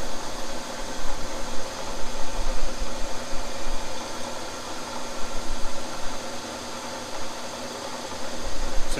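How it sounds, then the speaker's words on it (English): A flap wheel with 2000 grit buffs an engine part for a 440 Source 543 cubic inch stroker, making a steady whirring, hissing grind that holds throughout at a fairly loud, even level. "Just give it a little bit of buffing action like that. And because of the 2000 grit, it takes a little while to get the work done."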